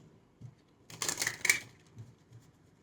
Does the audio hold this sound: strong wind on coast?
no